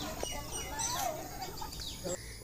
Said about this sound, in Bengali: এখানে আসলে তোমরা সবার আগে বেশি শুনতে পারবা পাখির কিচিমিচির ডাক